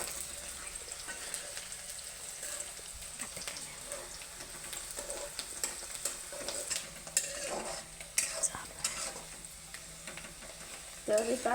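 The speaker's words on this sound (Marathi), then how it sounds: "मी इथं 2 कांदे घालत आहे आणि याला मस्तपैकी खमंग भाजून घ्यायचं आहे सोनेरी होईपर्यंत." Two onions sizzle steadily in a hot pan, frying until golden for a Maharashtrian akka masoor lentil dish, with soft scraping and clinks of stirring scattered through and a few louder spoon strokes near the end.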